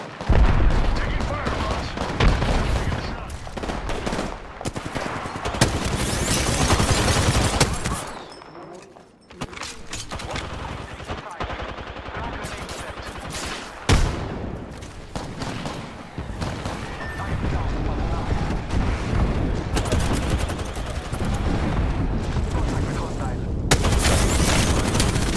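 Apex Legends match with dense, loud gunfire bursts and booming frag grenade explosions throughout, brief lulls between volleys, and players talking over the combat.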